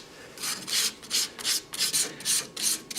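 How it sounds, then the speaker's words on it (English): Hand sanding works over the flat of a wooden blade turned on a lathe that is switched off, in rhythmic back-and-forth rasping strokes about twice a second, close and steady with no speech. "And I want to sand the flat of the blade."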